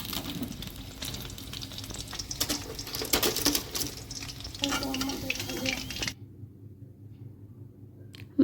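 Chicken pieces fry in a pan in batches, a close sizzling crackle with bursts of stirring and scraping that build in the middle, then cut off abruptly into near silence before a brief thump at the end.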